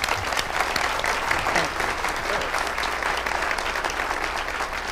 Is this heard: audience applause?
yes